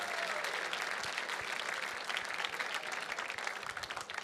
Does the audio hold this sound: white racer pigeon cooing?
no